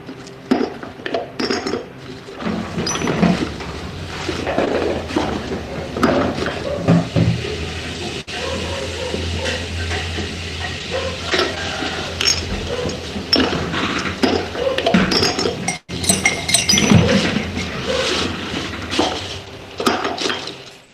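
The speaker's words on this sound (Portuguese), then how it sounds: "A gente fazer alguma coisa que tivesse o som da cozinha" An electronic mix assembled from kitchen sounds keeps up a busy layered texture for about twenty seconds. Dishes and cutlery clink, chink and clatter over running water and mechanical rumbles.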